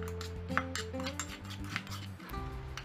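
A pestle pounds salt and other ingredients in a mortar for a Thai dipping sauce served with fried tilapia miang. Repeated close knocks and clinks sound under background music.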